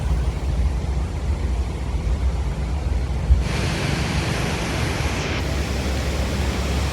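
Water gushes from the opened gates of Mettur Dam in a constant broad roar, loud and unbroken.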